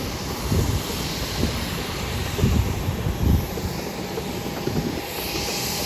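An Alaska SkyWest jet pushes back from the gate at Hollywood Burbank Airport, its engines giving a steady whine and rumble with a few low surges, heard from a distance.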